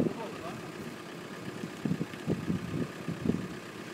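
2.0-litre diesel car idling at a used-car market, with a rough, tractor-like low clatter. The engine sounds faint and steady, with some uneven knocks toward the middle.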